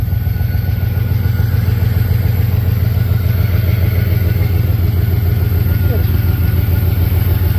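A Holden HQ Monaro engine idles nearby, a low rhythmic rumble holding constant throughout with faint mechanical clatter on top.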